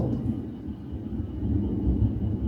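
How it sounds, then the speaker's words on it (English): Deep, low rumbling thunder rolls on steadily at a Florida nature preserve, heavy and distant, with no voices over it. "it sounds like a normal day in Florida with the thunder and the heat lightning"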